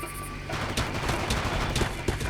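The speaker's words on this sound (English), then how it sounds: "The gunshot you're hearing is just the guys further up." Continuous distant gunfire in Far Cry crackles through a dense, noisy backdrop, with scattered sharper shots popping out over a steady rumble.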